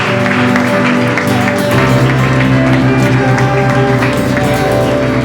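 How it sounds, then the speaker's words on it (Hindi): Church congregation clapping as an offering to Jesus at a Christmas service, a steady wash of applause over sustained worship music that runs loud for the whole stretch. "give a clap offering"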